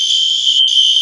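Loud fire alarm sounding with a steady, piercing high-pitched tone that holds continuously, with only a momentary dip near the middle, set off at a New Year celebration.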